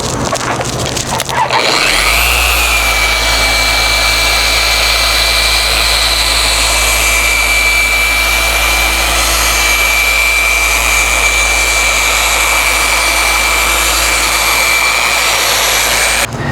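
A machine polisher fitted with an orange foam pad works over car paint during scratch repair. It spins up quickly, then holds a loud, steady whine close by with no talk.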